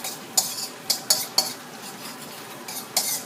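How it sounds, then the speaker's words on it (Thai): Garlic being stir-fried in oil for a Thai chili-garlic squid tentacle dish: a few separate scraping clinks of a utensil against the pan at irregular intervals over a faint, quiet sizzle, with no talking. "แล้วก็ใส่กระเทียมลงไปผัดให้หอมนะคะ"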